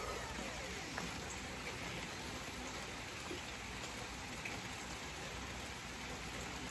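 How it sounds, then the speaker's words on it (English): Steady rain falls outdoors, giving a soft, even hiss with scattered droplet ticks that continues unbroken at a low, distant level. "I love the rain. I love the sound of it."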